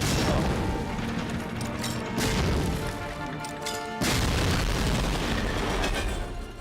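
Heavy rumbling blasts from a grenade in Medal of Honor Frontline, loud and dense, one booming burst after another with brief drops between them and no talking.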